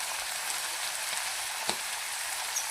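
Onion frying in a pan while cooking a pea pulao, giving a steady, even sizzle throughout with a brief sharper crackle near the middle.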